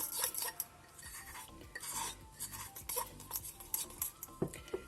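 A spoon scraping and clinking inside a mug while stirring a whole wheat flour mix for a mug cake, with soft irregular rubbing strokes and occasional sharper taps, close and fairly quiet.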